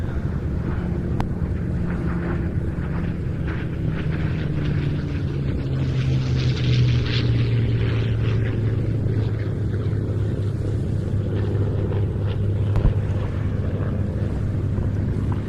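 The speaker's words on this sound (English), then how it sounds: "it leads us on to the Photographic Reconnaissance Spitfire" A Mark 11 photographic reconnaissance Spitfire flies in from the right, its propeller engine a steady droning growl with a slowly shifting pitch at moderate distance.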